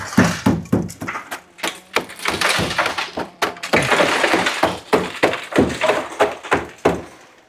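Repeated sharp taps and knocks on window glass from a Honda City, each hit a brief percussive crack, close and loud, in an uneven series with a denser burst of cracking in the middle.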